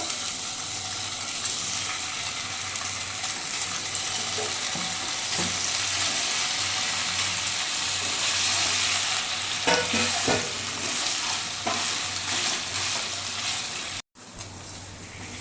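Steady, loud sizzling of paneer frying in an oiled pan, with scattered scraping clicks from stirring and a brief cutout near the end.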